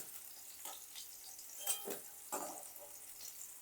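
Flat beans shallow-frying in oil in a pan give a soft, steady sizzle, broken by a few brief stirring scrapes and clinks of a spatula, with no one speaking.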